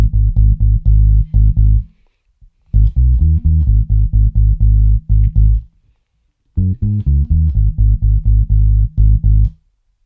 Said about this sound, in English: Put the bass line together, you have minor triad.